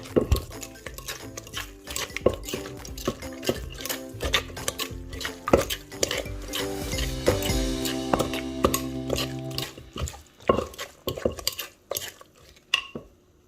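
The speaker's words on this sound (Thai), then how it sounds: "คลุกเคล้าให้เข้ากันจ้า" A spoon scrapes and clinks steadily against a bowl while mixing a Thai roasted chili dip made with seasoning powder, a busy stream of close, rhythmic metallic stirring; no talking.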